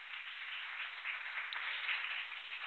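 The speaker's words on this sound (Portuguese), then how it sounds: "Você pode aplaudir o Senhor?" A church congregation at an Easter evening service claps in steady, faint applause, a continuous wash of hands heard from a distance.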